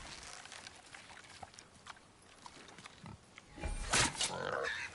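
A boar in God of War on PS5, with rough, snorting pig grunts that grow louder and closer toward the end amid game sounds, and no talking.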